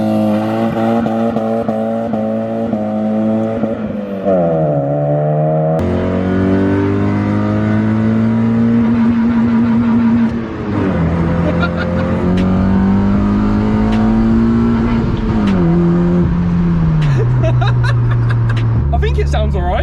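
Honda Civic engine revving repeatedly up to the rev limiter, loud and close, with rising pitch sweeps, stutters at the cutoff, and drops between pulls, while a person talks over it.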